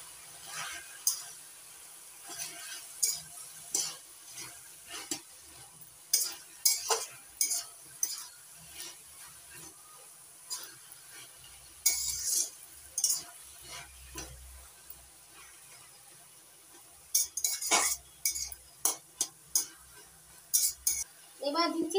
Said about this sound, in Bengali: হলুদটা ভালো করে মিশিয়ে নিচ্ছি